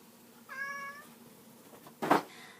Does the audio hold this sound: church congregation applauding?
no